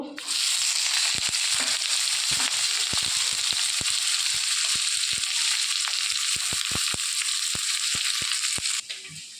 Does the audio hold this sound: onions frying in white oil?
yes